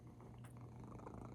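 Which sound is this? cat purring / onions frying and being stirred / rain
cat purring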